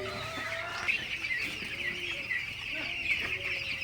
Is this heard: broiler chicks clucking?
yes